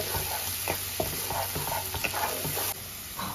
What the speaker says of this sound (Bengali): আমি একটা আদা, রসুন, পেঁয়াজ, কাঁচা লঙ্কা দিয়ে একটা পেস্ট তৈরি করে নিচ্ছি, ওটা দিয়ে দেবো। এবারে এটা একটু ভাজা ভাজা করে নেবো।